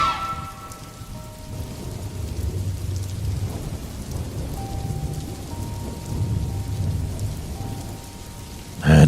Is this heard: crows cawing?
no